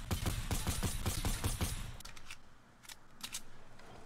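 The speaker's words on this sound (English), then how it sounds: "I'm gonna shoot at it." Rapid bursts of gunfire in Fortnite, a fast rattling volley of sharp shots for about two seconds, then scattered fainter shots against a quiet background.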